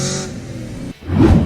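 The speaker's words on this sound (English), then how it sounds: "The soundtrack of the exhaust is a pure treat for your ears." A V8 car engine growls, cuts out briefly, then revs back up with a deep, throaty exhaust roar.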